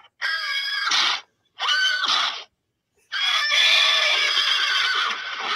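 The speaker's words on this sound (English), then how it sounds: "Who did the horse sound?" A horse whinny sound effect plays loudly and close, as two short whinnies followed by a longer, drawn-out one.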